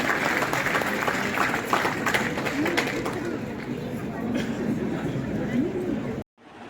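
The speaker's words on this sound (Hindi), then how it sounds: "आप सभी से निवेदन कि बच्चों का उत्साहवर्धन जोरदार तालियों की गड़गड़ाहट से करें।" Audience in Bikaner applauding young people at an event honouring a gold medalist, a broad steady clapping wash with crowd murmur and a voice speaking through it, cutting off suddenly near the end.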